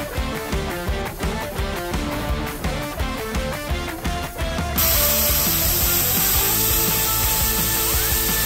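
A power saw cuts metal for a stepping surface on a 2024 KTM 250 Duke stunt motorcycle tank in a workshop, loud and close with rapid rhythmic strokes, then a steady high whine.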